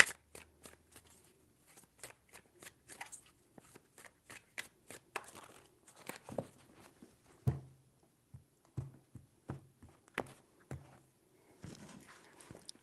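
Tarot cards are shuffled by hand in a quiet room, a string of soft, irregular taps and riffling flicks, close and fairly faint, with brief pauses between bursts.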